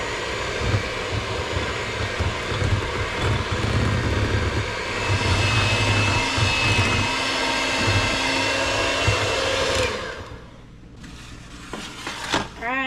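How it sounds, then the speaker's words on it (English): An electric hand mixer beats cake mix batter for a pineapple upside-down cake, a steady loud motor whir with a clattering bowl running for about ten seconds, then stopping abruptly, leaving quieter clinks and rustles. "now add the cake mix. And we're going to beat this for 2 to 3 minutes."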